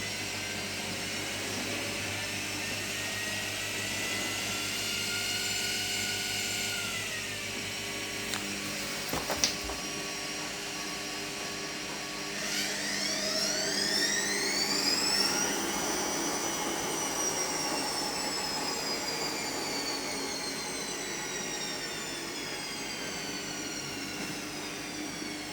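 A restored Zanussi WJD1667W washing machine spins at high speed, its motor whine rising and falling in pitch as the drum speeds up and slows, steady and close, with a few clunks partway through.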